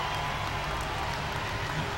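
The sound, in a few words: crowd applause at tractor pull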